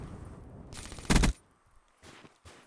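A short burst of rapid gunfire cracks out loudly, followed by a couple of fainter, distant shots in Black Ops 3.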